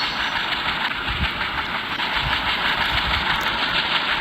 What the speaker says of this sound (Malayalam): നമ്മളുടെ ട്രെയിൻ ഇവിടെ നിർത്തിയിട്ടുണ്ട്.